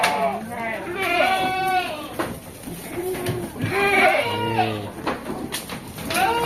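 Goats bleat repeatedly in a busy livestock market selling goats, wavering cries rising over one another at close range while people talk throughout.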